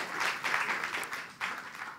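Audience applause in a concert hall during a lecture demonstration on Carnatic music, a broad steady wash of many hands clapping, fairly loud and sustained, with a slight dip and swell partway through.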